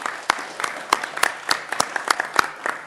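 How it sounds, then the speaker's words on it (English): Scattered, fairly sparse applause at a cabinet meeting: a small group clapping, with distinct individual claps rising and falling over about three seconds, close and moderately loud. "And a round of applause as well."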